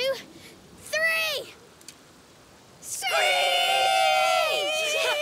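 Characters in A Plague Tale Requiem imitate birds of prey with their voices: one short, wavering screech, a pause, then several voices screeching together loudly and at length, rising and falling in pitch.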